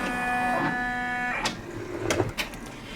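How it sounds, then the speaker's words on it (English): Multi-needle embroidery machine stitching a placement line for batting on a Christmas tree skirt, a steady whirring motor hum with tonal drone that gives way to a few mechanical clacks and shifts, no talk. "So it is stitching out the placement line for the batting."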